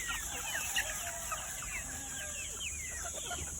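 Fighting cocks cluck and chatter in a steady, busy stream after a typhoon, several birds calling at once over a constant high insect-like hiss.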